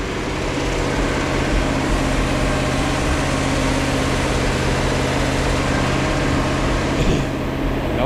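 A freshly repaired Pontiac 400 V8, its cam and intake issue just fixed, runs steadily at a fast-choke idle, a loud, continuous low rumble close by with no talk over it.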